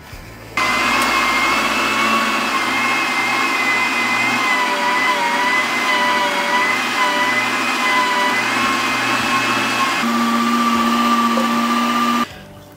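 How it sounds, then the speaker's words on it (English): An electric meat grinder runs continuously with a steady motor whine as meat goes through the coarse plate for smoked chili. The loud even drone starts abruptly and stops abruptly near the end, with a slight pitch change late in the run. "We got the grinder. I've got the coarse plate. So we're gonna grind this"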